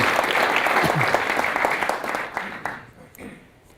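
An audience at a lecture on laboratory explosives fatalities gives a warm round of applause, dense and steady at first, then thinning and fading over the last second as a voice begins.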